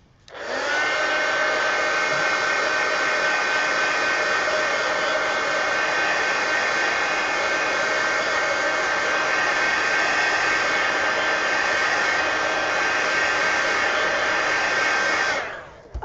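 A hair dryer blows a steady, loud, even whoosh for about fifteen seconds as it dries paint on an adult coloring page, starting and stopping abruptly and running alone without voices.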